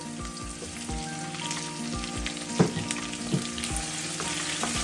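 Chopped tomatoes fry in a pan for a Sri Lankan egg curry, making a steady close sizzle broken by a few stirring clinks and scrapes, with no talking.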